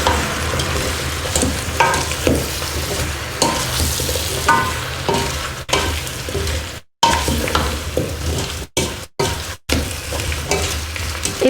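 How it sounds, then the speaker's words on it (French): Beetroot soup simmering in a pot is stirred steadily with a utensil, a continuous bubbling sizzle broken by repeated scraping strokes, with a few brief silent gaps. "Et on tourne un petit peu pour que ça ne brûle pas."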